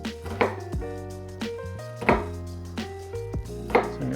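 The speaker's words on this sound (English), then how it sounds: "just cut that onion in half" Knife chopping an onion on a cutting board, a handful of distinct sharp knocks spaced about a second apart, close up and clear with nothing else going on.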